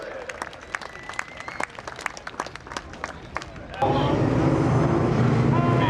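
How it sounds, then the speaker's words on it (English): Scattered clapping and cheers from the stands at Seekonk Speedway during spectator drags and late model racing, with a voice over a loudspeaker on top, then a loud steady engine roar takes over. "give another round of applause to Joe DeFarius."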